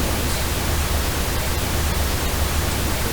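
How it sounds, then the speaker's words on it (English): Steady pink noise test signal for ear training: a loud, unbroken broadband hiss with a fuller low end, constant in level throughout with no voices. "So this is just pink noise."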